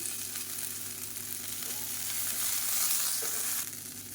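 Dried red chillies, a handful of mint leaves and coriander sautéing in a pan for coconut chutney: a soft, even sizzle that swells slightly before easing off, with a low steady hum beneath.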